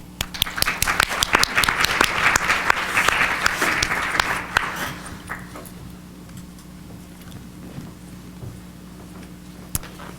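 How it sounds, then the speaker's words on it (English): A conference audience applauds to welcome a speaker, with full, lively clapping for about five seconds before it thins to a few scattered claps and the room goes quiet. "Please join me with a round of applause for her speech."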